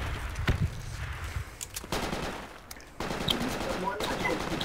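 Automatic weapon fire from the military shooter game Project Reality v1.31, with rapid bursts and scattered shots in a firefight, voices shouting over the clatter.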